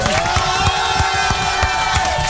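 A studio audience at an NRJ radio show claps and cheers loudly in a dense, continuous burst with sharp scattered hand claps, while a host's voice carries over it.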